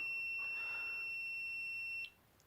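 An REM motion-sensor ghost box unit activates when movement is detected, giving a steady high electronic beep tone that holds for about two seconds and then cuts off, with a brief extra blip near the end, alone in a quiet room.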